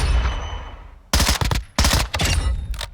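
MP5SD6 suppressed submachine gun in Call of Duty Modern Warfare II, fired in rapid bursts: two tight clusters of loud, close shots with brief gaps between bursts, preceded by low game ambience.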